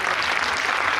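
An audience at a lecture claps in a dense, steady burst of applause that fills the brief moment.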